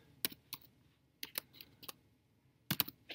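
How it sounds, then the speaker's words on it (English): Typing text on a computer keyboard, heard as sparse, close, crisp key clicks in small irregular bursts, with quiet pauses between them and no talking. "Inside, I'm going to type text"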